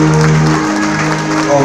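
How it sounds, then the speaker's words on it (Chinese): Wedding banquet guests applaud as the bride and groom enter the hall, a burst of clapping under a sustained tonal hum from music and the room. "来宾朋友们，来吧，隆重通过的掌声送上。"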